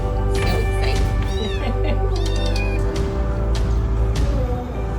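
Kittens meow and call out repeatedly over a busy, steady background, with several rising high-pitched cries clustered near the start and middle, and some voices talking alongside them.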